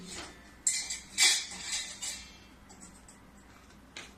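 A metal stand set down into a pot lined with salt for stovetop mango cake baking, heard as a few close metallic clinks and scrapes in quick succession, then quieter rattles and a final small clink.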